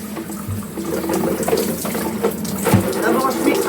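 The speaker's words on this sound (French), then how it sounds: "Donc là, je vais rincer." Tap water runs steadily into a basin while hair dye is rinsed out, a close, continuous splashing stream with some hand movement in it and no talk.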